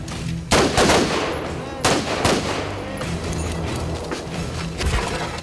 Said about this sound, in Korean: 여러분들이 최대한 그 정밀하게 총을 쏜다